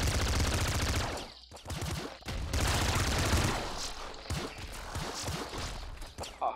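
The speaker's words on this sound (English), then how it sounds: "Oh no. Another minigun." A minigun in the video game Nuclear Throne fires in dense, rapid automatic bursts, loud and near, with brief pauses between volleys and other game sounds mixed in.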